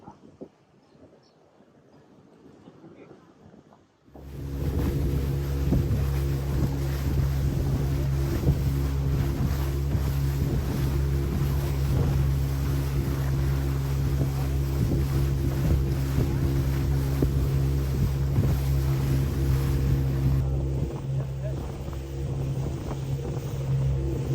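A motorboat engine on the Atlantic Ocean off Angola drones loud and steady with wind buffeting the microphone, starting abruptly after a few quiet seconds and running continuously.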